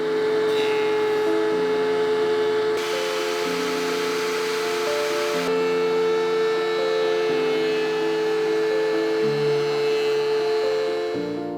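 A power drill driving screws through closet boards into the side walls of an off-grid home, its steady whine rising and falling in pitch across several runs.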